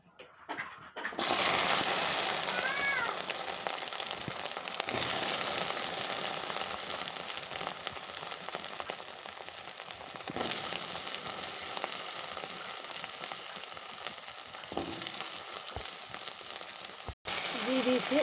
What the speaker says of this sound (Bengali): এবার আমি দেবো আলু, কচু, কুমড়ো একসাথে ভাজা ভাজা করবো।